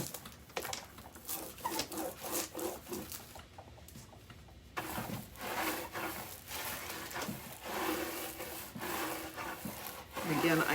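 Foil being rubbed down firmly along the edges of a table, giving a steady close-up scratchy brushing and rubbing texture that continues in uneven strokes with a brief quieter lull partway through.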